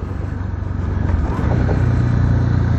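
A Honda XR 300 Tornado motorcycle engine rumbles steadily while riding off-road, loud and close with wind noise and a slight rise in pitch partway through.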